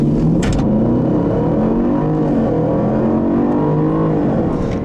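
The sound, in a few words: 2015 Range Rover Sport supercharged engine accelerating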